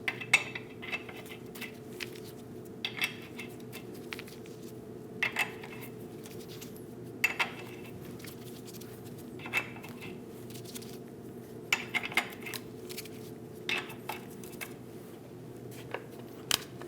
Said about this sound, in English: Install all the lug nuts.